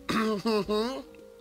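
A person voices three short coughs in a row, close by, with brief gaps between them and then quiet.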